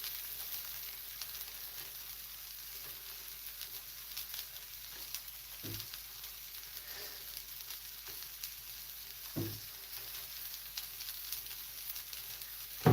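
Onions and bacon fry in a pan with a steady, faint sizzle and crackle throughout, broken by a couple of soft low knocks.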